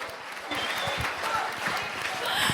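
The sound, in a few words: audience applause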